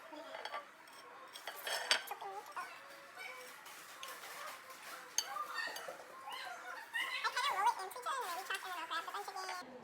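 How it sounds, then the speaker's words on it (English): A knife chops fresh cilantro finely on a cutting board, giving quick, light, irregular taps that run continuously at low volume, with kitchen clatter and background chatter in the mix. "I'm just gonna chop this up finely."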